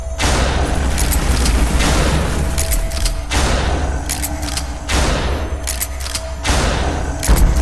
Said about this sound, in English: Okay, shotgun.